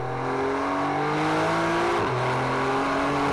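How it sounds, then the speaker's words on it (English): A Porsche six-cylinder engine revs hard and close, rising in pitch, then dropping briefly at a gear change before climbing again in one continuous, loud pull with no talking. "for me that 6-cylinder noise, that was really exciting"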